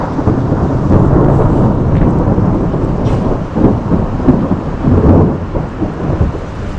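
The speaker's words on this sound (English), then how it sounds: "and crack of lightning." Loud thunder rumbles and cracks through a thunderstorm over a small Montana town near Lima, with a broad, rolling roar that swells and surges for several seconds amid steady rain.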